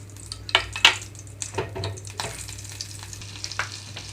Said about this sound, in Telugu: పాన్ హీట్ అయిన తర్వాత ఒక టేబుల్ స్పూన్ వరకు ఆయిల్ ఒక స్పూన్ వరకు బటర్ కూడా ఇందులోకి వేస్తున్నాను